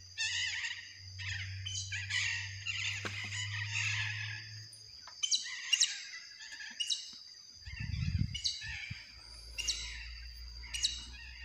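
Small birds chirp in repeated bright bursts by the Itapecuru River at Coroatá, Maranhão, their calls fairly close and clear over a low, steady hum that drops out briefly, with no voices.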